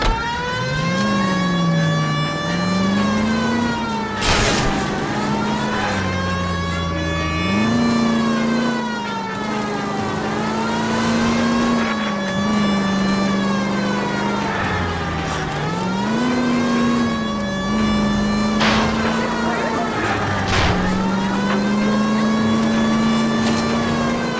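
A period car engine in L.A. Noire drones loudly and close throughout, its pitch climbing through repeated gear-shift cycles of revving and easing off, with a wailing siren woven over the motor and occasional sharp bumps.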